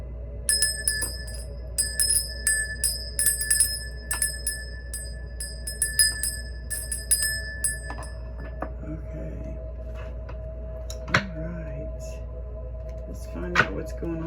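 A bell rung to open a tarot reading sounds in a quick flurry of bright, ringing strikes. The rings come in bursts and then give way to quieter sounds with a voice speaking.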